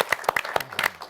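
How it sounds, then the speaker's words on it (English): Applause at a conference panel, a handful of distinct, sharp claps in quick irregular succession, close and fairly loud, sounding like a small group rather than a large crowd. "I want you to applaud these people"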